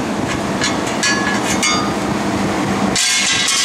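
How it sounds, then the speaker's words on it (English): Rapid metallic hammer taps ring out close by on a hot axle nut of a 1998 Jeep TJ, a steady clattering run of blows over a busy workshop background. "And you just tap it with a hammer,"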